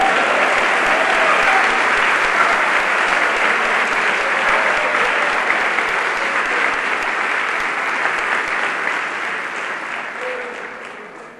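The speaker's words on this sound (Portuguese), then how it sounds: "Vocês podem aplaudir o Senhor Jesus Cristo." A church congregation applauds in a dense, sustained wave of clapping that holds steady for about eleven seconds, then slowly thins and fades near the end.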